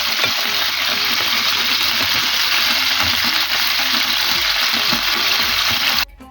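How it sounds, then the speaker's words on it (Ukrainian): Cleaned liver fries in oil in a pan, a dense, steady sizzle and crackle that carries on evenly before cutting off abruptly near the end. "почищену печіночку обсмажуємо на олії до готовності"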